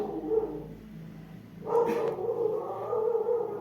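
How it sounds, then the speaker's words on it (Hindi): A dog barks from outside, a single muffled bark heard indoors over a low background hum, fairly distant rather than close to the microphone. "कौन भौंक रहा है बाहर"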